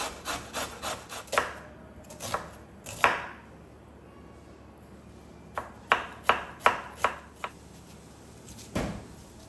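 A knife chops cabbage, onion and carrot on a board in bursts of sharp, close knocks, a quick run at the start and another cluster later, with quiet pauses between.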